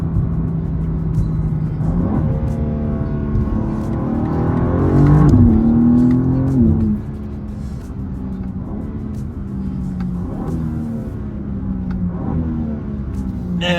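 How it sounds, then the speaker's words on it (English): A BMW M2 G87 accelerating hard with loud, close engine roar, rising revs and crisp downshift blips around the middle, the note surging then settling into a steady rumble. "Man, that's some good downshifts."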